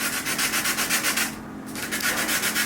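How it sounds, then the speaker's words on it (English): Sandpaper rubbing a rough-cut model block by hand, steady rhythmic back-and-forth scratching strokes with a brief pause midway, close and continuous with no voices. "You get all the detail by sanding."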